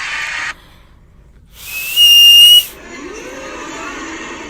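A whistle sounds close up in one loud, steady, shrill blast lasting under a second, with hissing noise before and after.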